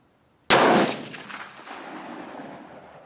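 A single close, loud shot from a K31 rifle loaded with 47 to 48 grains of IMR 4064, a sharp crack followed by a fading echo on a range.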